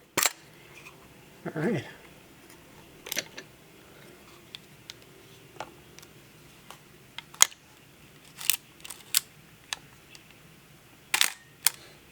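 A Leica R4 film camera with a vertical focal plane shutter fires repeatedly, giving sharp close clicks and clunks spaced irregularly over quiet handling noise, with someone speaking briefly.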